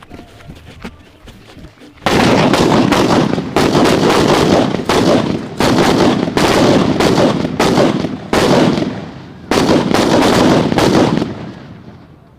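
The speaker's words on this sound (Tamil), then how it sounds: "அடுத்ததாக மின்னல் சரம் எப்படி இருக்குது அப்படிங்கிறத பார்த்துருவோங்க" A minnal saram lightning firecracker string bursts in a village: after a quiet start, a dense, loud barrage of rapid cracks and pops rattles on for about ten seconds with brief gaps, then cuts off.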